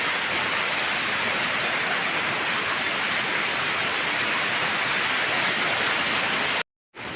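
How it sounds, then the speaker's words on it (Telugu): Rampa waterfalls in a tree-shaded spot give off a loud, steady rushing roar of falling water that fills the whole clip, with a brief dropout near the end. "నేను ఇప్పుడే రంప వాటర్ ఫాల్స్కి వచ్చాను"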